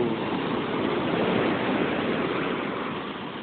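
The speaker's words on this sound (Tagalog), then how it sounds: "Malaki ng alon" Big ocean waves break and wash at sunset on the shore at Pagunsbog, a continuous broad roaring hiss of surf that stays fairly constant and slightly eases toward the end, with no voices.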